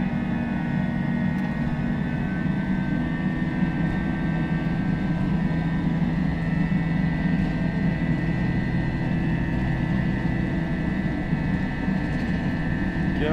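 Jet engines of an FSLabs A320 airliner at takeoff thrust in the Prepar3D flight simulator, departing Christchurch, give a steady, loud, unbroken roar with a sustained whine on top.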